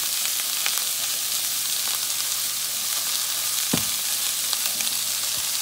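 Green beans frying in heated oil in a pan, a dense continuous sizzle with occasional pops and one sharper clack, steady and close, no voices.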